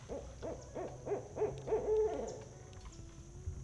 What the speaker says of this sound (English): There's owls hooting at each other out here.